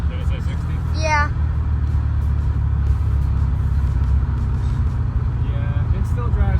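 A Coyote-engined Fox Body Mustang on the move with a 5-lug swap and brakes and steering still needing work, its engine a steady low rumble heard from inside the car, with a brief squeaky chirp early on.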